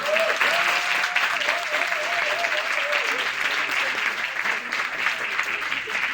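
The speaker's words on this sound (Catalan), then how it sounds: "un aplaudiment per l'autor" An audience at a Barcelona manga convention anime night gives a long, loud, steady round of applause for the author, dense clapping throughout with a voice faintly audible above it early on.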